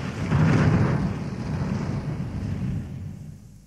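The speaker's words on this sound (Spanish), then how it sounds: "Un trueno sonoro anunció el comienzo de la función" Low, deep thunder rumbles in a swell that peaks early, then fades slowly, with nothing else heard.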